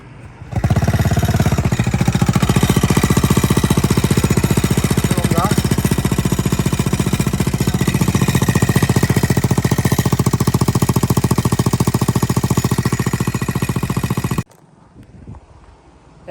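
A new AX200 motorcycle engine runs with a broken exhaust, a loud, harsh, rapid rattling roar held steady for about fourteen seconds, close by, before it cuts out to quiet.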